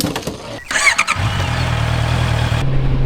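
A used motorcycle, newly bought, cranks briefly and fires up, catching into a steady loud idle that rumbles close by for the rest of the moment, with some clatter and rustle just before the start.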